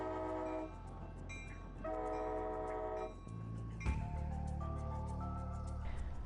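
A historic railroad train on a museum spur line built for Hoover Dam near Boulder City, Nevada, sounding its horn in several long chords over the running rumble of the train.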